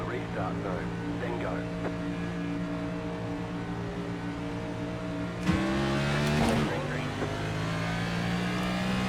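Race cars in the iRacing sim accelerate at a green-flag restart: a steady multi-engine drone suddenly swells into loud, rising revs and keeps roaring close by, with a voice talking over it.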